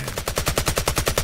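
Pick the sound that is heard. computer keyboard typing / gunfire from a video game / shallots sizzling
gunfire from a video game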